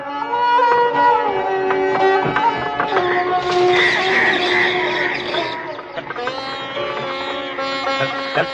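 A car turning around, tyres skidding and squealing under the engine's roar, with shouting voices and music over it.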